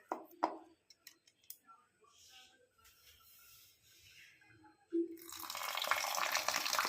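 Red lentils are rinsed in a vessel, with light scattered handling and splashes first, then tap water runs in a strong, steady stream under them.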